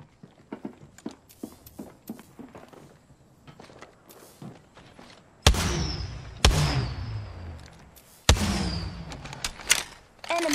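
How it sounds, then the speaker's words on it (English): Apex Legends gunfire: three sharp, loud shots crack out at uneven intervals, each leaving a brief ringing tail, after a stretch of light rapid clicks and taps. "I'm getting shot at"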